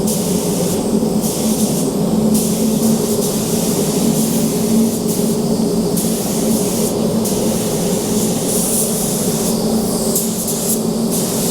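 A BMW G90 M5 body kit is spray painted inside a paint booth: a steady, loud, continuous hiss over a low droning hum, with no talking.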